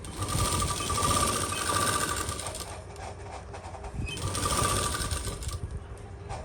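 A sewing machine stitches the lining of a Burberry-fabric suit, running in a steady fast mechanical whir with a clattering needle rhythm, close and loud, briefly easing off midway before starting again.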